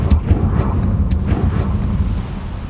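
A Confringo explosive spell in Hogwarts Legacy produces a loud, dense rumbling blast. Heavy low roar holds steady throughout, with a few faint crackling bursts on top.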